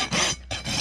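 A rasp scraping a horse's hoof level, two close, harsh grinding strokes with a short gap between them.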